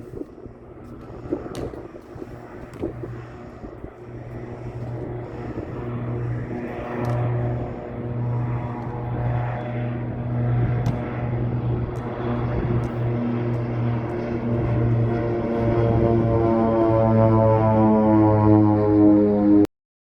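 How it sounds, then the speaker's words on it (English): Propeller airplane flying at Isafjordur airport in an Iceland fjord, its drone growing steadily louder and rising in pitch as it approaches, with faint clicks in the background. "There's not many flights in and out, but they're fun to watch if you catch one."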